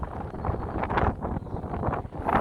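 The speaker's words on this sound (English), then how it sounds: "Quite windy, as you can see." Gusty wind on a riverside walking trail buffets the microphone in steady low rumbling waves, loud and close, with brief surges and no talking.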